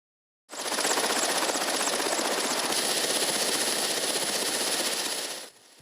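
A Russian military helicopter's rotor thumps in a loud, fast, continuous chop nearby during a 2022 civilian evacuation in Kharkiv, Ukraine, holding steady for several seconds before cutting off.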